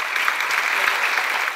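A school gym audience applauds at a spring sports awards night for three-year letter winners, with brisk, even clapping from many hands heard alone at moderate loudness.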